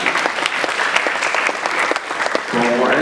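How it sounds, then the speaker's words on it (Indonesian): Loud, dense audience applause at a talk show during Katy Expo 2016 fills the hall without a break, with a voice cutting in as the clapping carries on. "Matur Pak Oni, tepuk tangannya."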